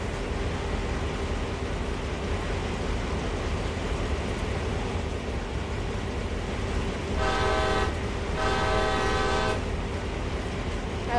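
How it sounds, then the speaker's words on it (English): Steady rumble of a moving train in Train Sim World, then two loud, sustained horn blasts about a second long each, sounding close and clear over the rolling noise. "I love the sound of that horn."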